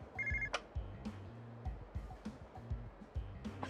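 A payphone rings in the video game Yakuza 0, a quiet electronic telephone bell sounding in short repeated bursts with a steady rhythm, accompanied by faint game noises.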